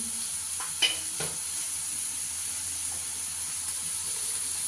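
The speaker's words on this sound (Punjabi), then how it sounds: "ਪਹਿਲਾਂ ਪਾਉਂਗੇ ਜੀ ਆਪਾਂ ਜੀਰਾ ਥੋੜਾ ਫਰਾਈ ਕਰਕੇ" Cumin seeds frying in a pan for a Punjabi okra dish, a steady soft sizzle and hiss with a couple of brief clinks from stirring near the start, no talking.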